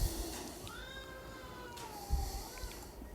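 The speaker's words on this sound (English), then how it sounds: "And that's my cat." An old house cat meows in a long, drawn-out wail, rising and falling over about two seconds, fairly close and alone against a quiet room.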